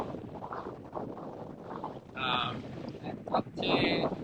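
Steady wind rushes across the microphone aboard a sailboat making about 6.5 knots in foggy conditions, a continuous broadband roar with gusty swells that strengthen toward the end, occasional faint voice-like sounds underneath.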